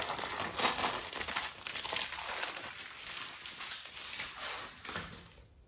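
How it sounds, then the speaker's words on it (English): Crinkly plastic wrapping of a plaster cloth package crackles and tears continuously for several seconds, close by, with no speech. "I'm gonna open up another pack."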